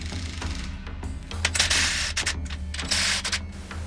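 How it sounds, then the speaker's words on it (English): Lag bolts being driven into predrilled holes on a homemade benchtop router table, heard as bursts of high-pitched power-driver whirring with brief pauses between runs, close and moderately loud over a low steady hum. "I'm using lag bolts. Drilled some holes, and I'm just going to run these in."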